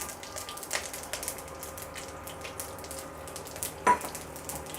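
Mustard seeds with a slit green chilli and a halved dried red chilli sizzling in hot oil as a tempering for mango dal, a steady close crackle with one sharp pop near the end.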